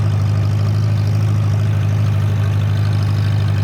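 A 1940-1947 Farmall BN tractor engine runs steadily with a loud, low, even chugging drone, close up and unbroken for the whole stretch.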